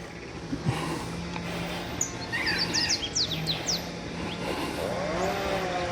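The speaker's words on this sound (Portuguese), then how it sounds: "Olha o passarinho bonitinho, rapaz." Small bird singing in a tree outdoors, a few faint chirps and short twittering phrases scattered over steady background noise, fairly distant.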